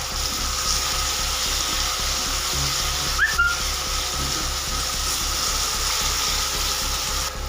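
Water poured into a simmering pan of Odia prawn and potato curry (chingudi alu jhola) sets off a steady, close hiss and sizzle that runs unbroken throughout, with no talking.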